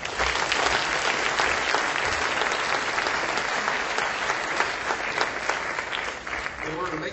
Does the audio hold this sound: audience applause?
yes